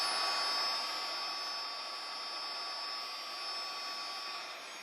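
A heat gun on its high setting blowing onto a dented plastic Jeep bumper: a steady, airy whine with a faint high tone, close and continuous, fading slightly toward the end, with no voices.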